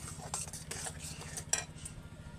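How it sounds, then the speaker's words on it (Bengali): Semolina is stirred in a pan with a metal utensil, making light scraping and clinking strokes over a low steady hum, each stroke close and fairly quiet. "সুজিটাকে ঘন ঘন নাড়তে থাকতে হবে"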